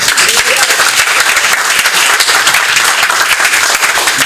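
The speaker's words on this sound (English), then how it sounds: "Give yourselves a round of applause." A Haitian community audience at an Eric Adams election rally gives itself a round of applause, loud and continuous clapping from a large crowd, dense and steady for about four seconds.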